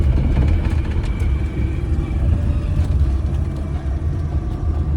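A car pulls up at a house to collect bags, heard as a close, steady engine rumble and whir that swells and dips slightly throughout, with no voices.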